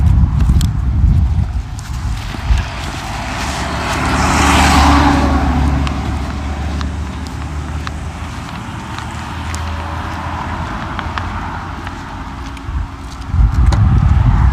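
A car on a Hatteras Island, North Carolina road slows and pulls over to pick up a hitchhiker, its engine rumble and tire noise close by and fairly loud, steady throughout with no talking.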